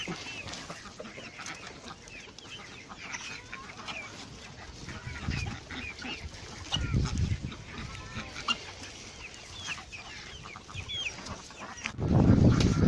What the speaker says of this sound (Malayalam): കോഴികളെ തുറന്നു വിടാണ് ഇവിടെ കോഴികളെയും താറാവിനെയും